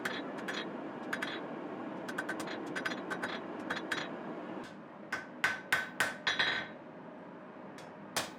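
Hammer blows forging the tang of a steel hunting knife, ringing sharply in irregular clusters over a steady roar, first lighter and rapid, then a series of heavier, spaced strikes near the end.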